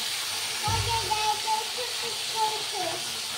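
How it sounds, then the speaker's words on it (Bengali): Fish fries in hot oil with a soft, steady sizzling hiss, quiet and continuous, while voices murmur faintly in the background. "তেল গরম হয়ে গেছে, মাছটা ভেজে নেব।"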